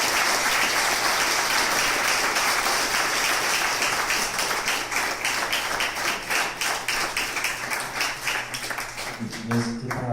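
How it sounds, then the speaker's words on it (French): An audience warmly applauds invited guests at a breakfast talk event, steady dense clapping close by that keeps up for about ten seconds, thinning slightly toward the end, with faint voices underneath. "nos invités, Loïc Benin, Christophe Giniski, Fabien Grenier, que vous pouvez chaleureusement applaudir"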